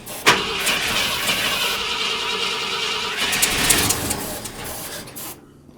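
A 1972 Ford F250 V8 with a rebuilt carburetor and new fuel pump cranks over steadily on the starter with a whirring, rhythmic churn, a sharp click at the start and a cutoff near the end, close and loud.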